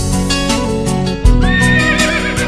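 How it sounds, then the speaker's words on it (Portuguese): Wild horses in Red Dead Redemption whinny loudly and repeatedly, with shrill rising neighs over rhythmic hoof clip-clops and a deep rumble. The horses sound close and dominate the scene. "Cavalos selvagens."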